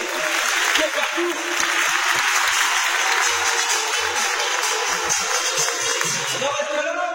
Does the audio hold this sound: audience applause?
yes